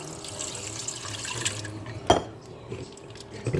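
Cold filtered water poured into a stand mixer bowl while making homemade butter, a faint trickle and splash in a quiet kitchen, with a brief louder clink partway through.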